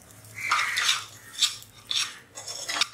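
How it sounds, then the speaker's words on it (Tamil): Wheat rava stirred in hot ghee in a pan, with repeated scraping and clinking of a spoon against the metal in irregular strokes, close and moderately loud, with no talk. "இப்போ அதே நெய்யில் கோதுமை ரவையை கொட்டி நல்லா வறுத்துக்கலாம்."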